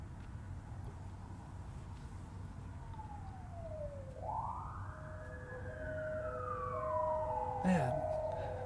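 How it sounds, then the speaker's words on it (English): An emergency vehicle siren wails outside, distant and faint, sweeping up and down as it passes beneath a low steady background hum. "Whenever I hear a siren go by, my reaction's always like, well, somebody's having a worse day than I am."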